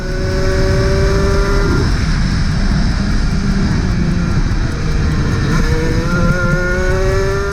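A high-performance shifter go-kart engine revs hard and loud as the kart accelerates around a race track, its pitch climbing and dropping smoothly at each gear change, with no talk.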